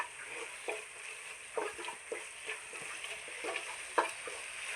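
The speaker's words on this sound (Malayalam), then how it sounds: "നന്നായിട്ട് ഇളക്കി യോജിപ്പിച്ച് കൊടുക്കാം" Garam masala and pepper powder for a Kerala-style soya chunks curry are stirred in a hot pan, with soft sizzling and a series of scraping spoon strokes at close range.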